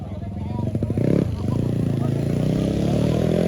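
A Honda Wave motorcycle races past during a road race, its buzzing engine loud and close as it surges by, with excited crowd voices talking over it.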